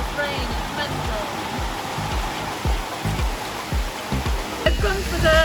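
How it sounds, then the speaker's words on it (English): Heavy rain pouring on a beach in Koh Samui, Thailand, a loud steady rushing hiss throughout, with people talking over it. "It's rain, it's mental."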